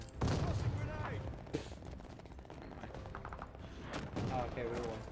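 A grenade and gunfire in a team shooter video game: rapid bursts of shots and blasts crackle through most of the stretch, with voices talking over the action.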